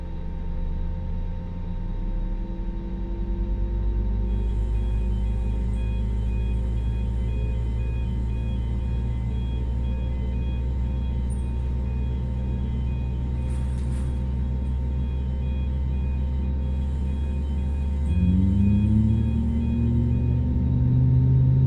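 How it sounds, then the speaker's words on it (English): Simulated Airbus A320 (FBW A32NX) engine 1 spooling up in Microsoft Flight Simulator, a steady loud turbine rumble and whine with sustained tones, rising in pitch near the end, no talk. "Engine number 1 coming up."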